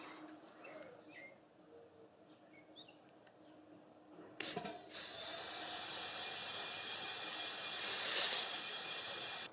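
Compressed air at 90 psi blasts through the A/C condenser of a Mercedes 560SL, starting with a sharp burst and settling into a loud steady hiss after a quieter stretch of faint background sounds.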